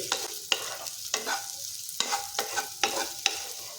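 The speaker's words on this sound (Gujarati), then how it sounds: "તેલમાં આપણે સોયાવળીને અહીંયા સરસ રીતે ફ્રાય કરી લઈશું" Soya chunks fry in hot oil for a Gujarati soya vadi curry, with a steady close sizzle and sharp, repeated scraping stirs against the pan and no talk.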